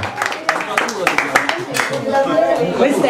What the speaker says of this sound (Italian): Un applauso ad Alfonso, una laurea strameritata.